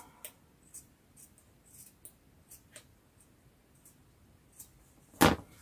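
Scissors trim the tip of a workpiece in a quiet room: several faint clicks and taps, then one loud, sharp snip near the end.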